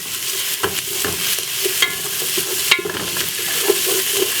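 A wooden spoon stirs Jamaican oxtail in a pot, with scraping strokes against the pot and soft knocks over a continuous sizzle of frying, close and fairly loud with no talking.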